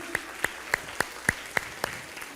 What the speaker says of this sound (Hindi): थोड़े जोश के साथ जोरदार तालियां हो जाए।